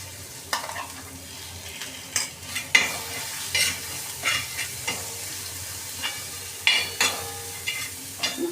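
A spoon works ground spice paste with masala around a hot tawa for bhindi masala, producing repeated close scraping strokes and clacks over a soft sizzle, with no talking.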